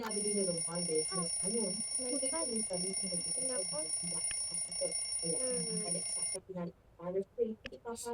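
An alarm clock rings in a home in the morning, its steady high electronic tone running beneath continuous conversation before it is switched off, leaving only voices.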